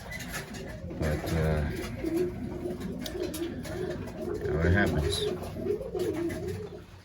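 A racing pigeon back from a 250-mile race coos in low, throaty bursts close by, repeating at intervals over steady outdoor background, while someone talks over it.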